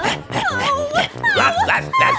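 A stray dog yipping, barking and whimpering in short excited bursts, close and loud, overlapped by raised voices talking.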